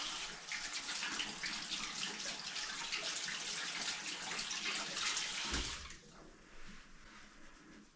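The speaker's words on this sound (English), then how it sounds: "Wash our hands quick." A tap runs steadily while hands are quickly washed during deli ham curing prep, a close, full rush of water for about six seconds before it cuts off and the room goes quieter.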